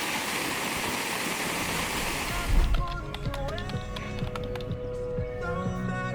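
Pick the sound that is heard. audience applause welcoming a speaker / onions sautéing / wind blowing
wind blowing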